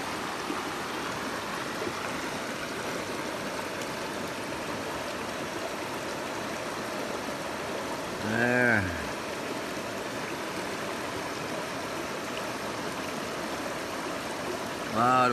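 A stream current flows steadily while gold panning, giving a continuous soft rushing gurgle with faint brief splashes and no speech.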